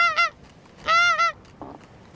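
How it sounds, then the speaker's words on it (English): Geese flying in off the sea in Orkney honk in two short bursts of overlapping calls, moderately distant, followed by a fainter single honk. "a lot of geese flying in off the sea"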